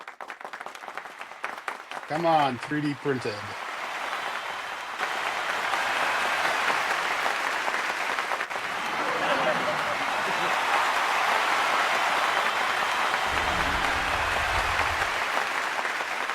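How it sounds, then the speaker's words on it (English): An online anniversary event audience claps for a contestant, sustained broadband applause rising after a brief spoken prompt and continuing steadily for many seconds, with short speech early on. "now it's time for you to clap"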